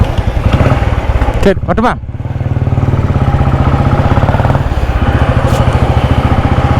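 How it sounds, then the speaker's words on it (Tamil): A motorbike engine runs at a steady, close idle, its even throbbing putter continuing throughout while someone speaks briefly over it. "வண்டி நல்லா இருக்குங்க. ஃப்ரண்ட்டு பிரேக் மட்டும்தான் ப்ராப்ளம், மற்றபடி ஓடுறதுக்கு நல்லா இருக்குது."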